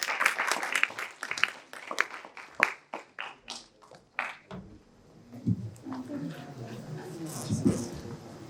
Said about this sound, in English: And may we have a huge round of applause for our next contestant,